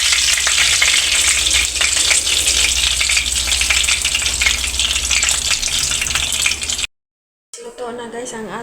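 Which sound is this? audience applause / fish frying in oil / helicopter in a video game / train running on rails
fish frying in oil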